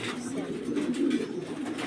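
Pigeons coo at a pigeon farm, a soft, repeated throaty cooing in the middle of the clip, partly under a nearby speaking voice.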